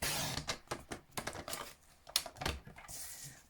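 Someone sizes a cardstock layer on a paper trimmer for a handmade card: a run of light plastic clicks and taps, then a short scraping swipe of the blade at the end, close and quiet.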